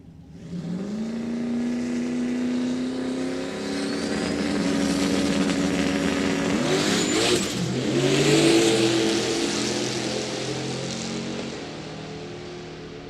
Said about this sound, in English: Dave Deal coming up next to the Mustang over on the Lucas Oil side